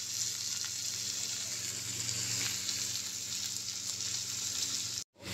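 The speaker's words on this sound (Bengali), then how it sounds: "এবারে এটাকে হাই ফ্লেমে ভাজবো, অনেকটা বেরেস্তার মতো করার চেষ্টা করব।" Sliced onions frying hard over a high flame in a home kitchen pan, a steady close sizzle and crackle throughout, cutting out abruptly just before the end.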